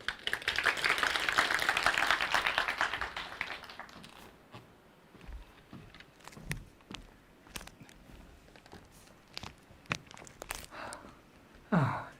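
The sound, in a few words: audience applause welcoming a speaker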